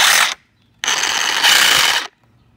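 Cordless power tool on a lithium-ion battery runs in two loud, close bursts, a short one and then a longer whir of about a second, separated by silence.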